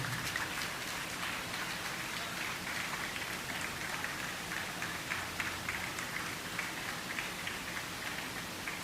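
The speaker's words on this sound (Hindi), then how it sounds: "तालियां बजती रहनी चाहिए." Sustained applause from an audience at a school memento presentation ceremony for a Kendriya Vidyalaya principal, a dense steady crackle of many hands clapping without pause, fairly loud and continuous throughout, with no voices over it.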